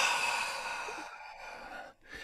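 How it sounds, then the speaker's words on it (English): A single deep breath drawn in during a tapping routine, a soft airy inhale close to the mic that fades into quiet, followed by a faint second breath. "deep breath in"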